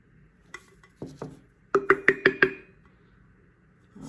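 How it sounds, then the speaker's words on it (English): A tumbler is rapped several times on its bottom to knock off excess material: two separate knocks, then a quick run of five sharp, close taps, with no talking. "Just hitting the bottom so I can get the excess off."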